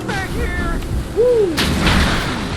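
Gunfire in the video game Mad Max, a sharp loud burst near the middle amid whooshing game effects and a rising tone, with a speaking voice heard briefly.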